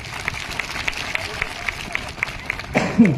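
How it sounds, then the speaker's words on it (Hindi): A crowd at a Bhagwan Birsa Munda Jayanti gathering claps in loose, rhythmic applause that sounds somewhat distant. A voice speaks over it near the end. "सबके लिए जोरदार आप लोग तालियां बजाइए"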